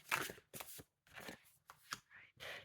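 A large tarot deck is shuffled in several separate bursts of papery riffling and card slaps, close and soft, with short pauses between the handfuls.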